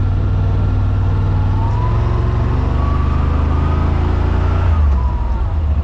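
A 2025 Yamaha Wolverine RMAX 1000 side-by-side drives in low gear across a grassy field, its engine a loud, steady droning hum with a gradual rise in pitch and a slight shift near the end.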